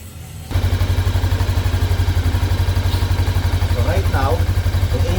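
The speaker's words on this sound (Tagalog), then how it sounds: "Right now, yung engine naka-start." A Bristol Venturi 500 motorcycle engine starts up and settles into a steady, loud, rhythmic idle close by, with faint sounds of handling in the background.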